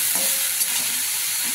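Curry leaves hitting hot oil in a pan, a loud, bright continuous sizzle and crackle with a brief stir, close up and alone.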